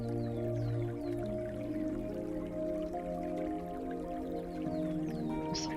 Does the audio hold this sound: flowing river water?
yes